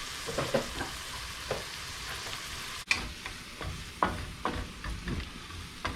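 Nacho ingredients sizzle and fry in an old pan while a utensil stirs and scrapes through them, giving a steady crackle punctuated by irregular knocks and a sharp clack near the middle, close and fairly quiet.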